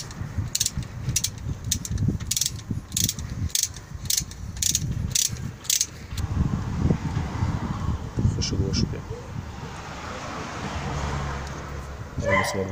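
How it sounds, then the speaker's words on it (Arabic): A ratchet wrench loosens the lower brake caliper bolt on a car during a brake pad change, giving a close, rapid series of metallic clicks in bursts, followed by quieter handling of the tool and parts. "بنركب مفاتيحنا كويس ونبدا بقى نفك المسمار التحتاني دوت عشان خاطر نقدر نطلع الكاليبر لفوق"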